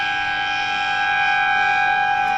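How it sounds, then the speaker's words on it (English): A long, loud, unbroken siren blares at a suburban Australian rules football match between Boronia and Templestowe, its steady tone holding without a break from start to finish. "So there is finally the final siren"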